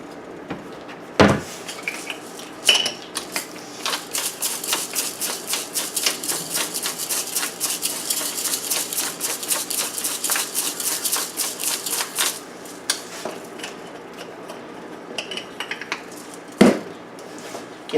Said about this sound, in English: Give that a nice little stir